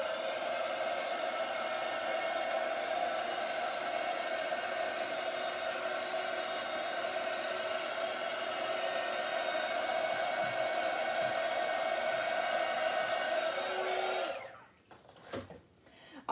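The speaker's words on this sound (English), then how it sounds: "Let's hit it with the heat gun first." Heat gun blowing steadily onto a poured acrylic paint canvas done in gold, silver and copper, a loud continuous airy roar lasting about fourteen seconds before it cuts off abruptly, leaving faint handling noises.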